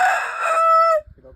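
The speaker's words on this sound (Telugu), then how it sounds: "పర్లా కోడి" A Parla breed rooster crows once, loud and close: a single drawn-out call lasting about a second that cuts off sharply, followed by faint low rustling.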